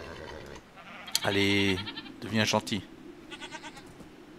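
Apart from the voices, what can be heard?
goat bleating in the video game Minecraft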